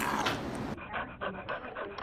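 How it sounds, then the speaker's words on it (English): A short-snouted dog with a soft palate disorder, after corrective surgery, breathes in close, noisy snorting pants, a steady run of raspy breaths with no talk. "you can hear it. I mean, he still snorts, short snout"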